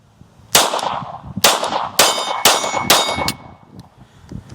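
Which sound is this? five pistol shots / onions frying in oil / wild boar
five pistol shots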